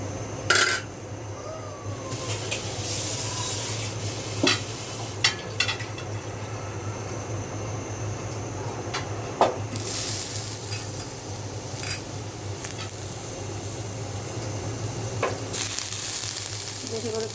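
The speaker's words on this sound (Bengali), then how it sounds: "পেঁয়াজও ভেজে নেব।" Onions frying in a pan in a home kitchen make a soft, steady sizzle with a background hum, broken by occasional sharp clinks and scrapes of stirring.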